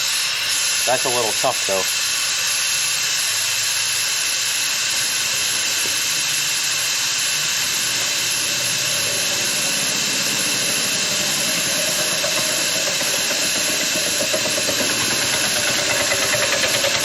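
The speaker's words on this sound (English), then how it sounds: "It actually can air down the tire." Air hissing steadily out of an off-road tire being aired down through a small nozzle, a loud continuous broadband rush that holds for the whole stretch, with a brief voice near the start.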